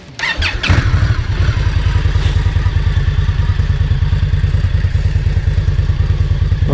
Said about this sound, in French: Et le démarrage.